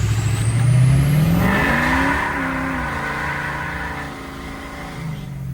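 A 6.0 diesel engine in a show truck revs hard, climbing in pitch over about two seconds and then easing back into a loud, steady rumble at close range, with no speech.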